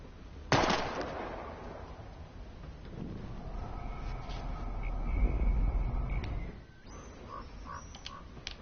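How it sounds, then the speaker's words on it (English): A single sharp gunshot cracks near the start as bottles are shot in the Life Is Strange video game. A steady, hazy game ambience with faint tonal sounds continues afterward. "We're gonna shoot all these bottles without wasting a single bullet."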